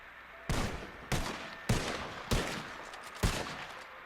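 Five sharp musket shots crack one after another at steady half-second gaps, fired by file in a video game, each loud report trailing off before the next, with no voices.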